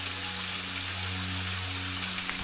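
Shishigataki waterfall on a mountain hiking trail gives a steady, soft hiss of falling water, even and continuous, with a low hum underneath and no voices.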